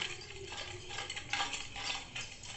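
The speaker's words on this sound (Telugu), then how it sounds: "ఈ మూడింటిని మంచిగా మిల్క్లో మిక్స్ చేసుకోవాలి" Turmeric and chili powder being stirred into milk with a spoon, a soft, quiet scraping and swishing that repeats in short strokes, close by and with no voices.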